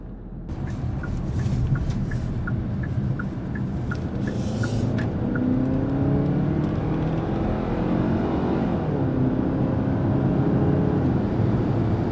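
Steady in-cabin road and engine drone from a 2022 Hyundai Tucson XRT AWD cruising on the highway at about 65 mph, a constant rumble with tire hiss and faint wind noise throughout.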